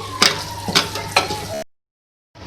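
Beef green chili keema stirred in a hot pan: three close, rhythmic spoon scrapes over a soft sizzle, then a brief silence.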